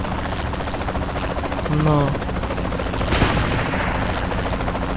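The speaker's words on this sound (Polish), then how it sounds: "bo helikopter mnie zgoni" Helicopter in the video game Saints Row The Third, a steady whirring rotor drone running throughout, with a brief tonal blip and a sharp burst mixed in, while a voice speaks briefly.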